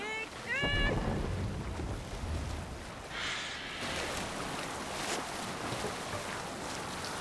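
A Viking longship sails a river in Assassin's Creed Valhalla. Wind and water wash past the hull in a continuous rushing roar, with a brief burst of game sounds near the start and a gust around the middle.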